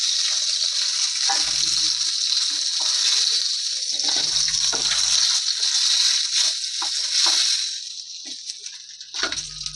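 Potatoes and taro fry in mustard oil in a pan just used for fish, producing a bright, steady sizzling hiss broken by a few dull knocks and stirring thuds, close and fairly loud with no talking.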